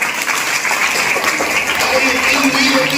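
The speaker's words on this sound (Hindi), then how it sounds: "तालियां बजाइए आप सब लोग।" A crowd applauds at a school's August 15 Independence Day event in a dense, steady wash of clapping that lasts the whole stretch, with a voice speaking over it.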